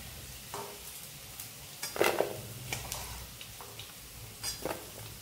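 Garlic frying in mustard oil for Bengali garlic bharta, a low steady sizzle with repeated metallic scrapes and clinks of a spatula stirring in the pan, close and moderately quiet.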